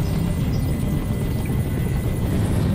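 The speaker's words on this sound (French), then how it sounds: "Fais dégager cet hélicoptère" Helicopter in the Detroit Become Human video game, a loud, constant rotor drone and engine roar that fills the whole stretch without pause.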